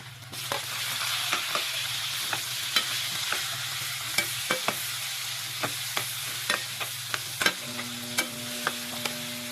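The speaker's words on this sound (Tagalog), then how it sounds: "pinirito ko nga muna yung mga baboy. At pagkatapos ay sinunod ko na nga rin yung mga bawang pati na nga rin sibuyas" Pork with garlic and onion frying in a pan, a steady sizzle beneath sharp intermittent clinks of a utensil stirring, with a hum joining near the end.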